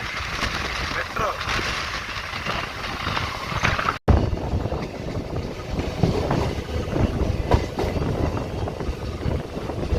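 A Chennai local train runs on its rails at night with a loud, steady rushing roar and rattle heard from inside the carriage, broken by a brief dropout partway through.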